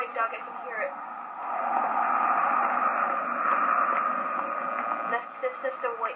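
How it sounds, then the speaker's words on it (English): Radio static in the video game White Noise: a steady hiss of hissing, crackling noise rises and holds for several seconds, with a voice talking briefly before and after it. "It was just a white noise."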